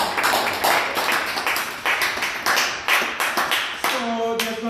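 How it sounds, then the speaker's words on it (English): A small group in a chemistry lab class claps for two students, with sharp, close hand claps in uneven bursts that thin out toward the end, where a voice briefly comes in. "give a round of applause to Megan"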